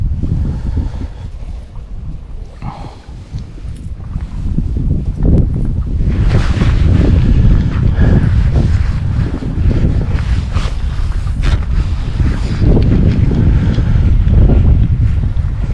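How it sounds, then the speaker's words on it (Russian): Strong wind buffets the microphone on a river during autumn fishing for chub and perch, a loud rumbling roar with gusts growing stronger partway through, alongside faint water sounds. "Да, ветер очень сильно мешает."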